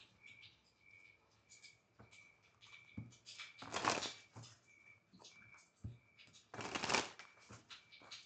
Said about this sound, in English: Those cards just fell right on out.